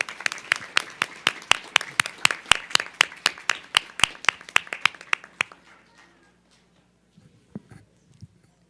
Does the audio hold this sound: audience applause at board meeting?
yes